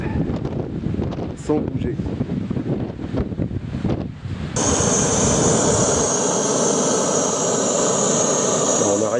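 Strong, roaring wind buffets the microphone on an exposed Jura mountain ridge, steady and loud throughout and intensifying midway, with a person speaking briefly over the gusts.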